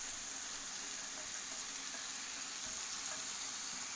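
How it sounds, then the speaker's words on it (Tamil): Cut long beans and tomato fry in a pan, giving a steady, even sizzle with a faint crackle throughout and no voices. "நல்லா ஃப்ரை ஆகட்டும்."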